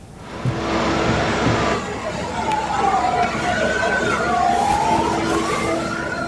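Fire engine siren wailing at a morning fire at a combined music store and music school in Rawamangun, East Jakarta, a rising and falling tone over street noise with a news narrator talking over it.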